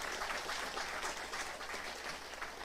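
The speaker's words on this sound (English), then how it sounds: "All right, brothers and sisters, give them a round of applause." Congregation applause at a religious gathering, a thick, continuous roar of many hands clapping in a reverberant hall, sustained evenly without pause.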